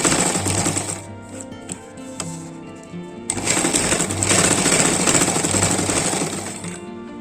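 Rapid, steady hammering around the edges of a jute table mat, a dense run of close, loud impacts with a short pause partway through.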